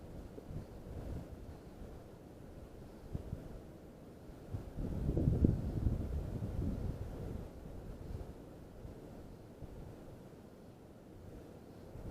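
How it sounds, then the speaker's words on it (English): Gusty wind buffets the microphone on a river bank during a backpacking fly-fishing trip for brook trout, a steady low rumble that swells louder in the middle before easing back, with no talking. "it's kind of getting windy"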